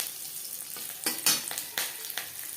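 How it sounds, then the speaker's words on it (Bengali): Slit green chillies frying with cumin in a little oil, sharp bursts of crackling and spitting as they hit the pan, with a few stirring scrapes, close and fairly loud. "জিরে ভেজে নেওয়ার পর দিয়ে দিলাম চেরা কাঁচা লঙ্কা।"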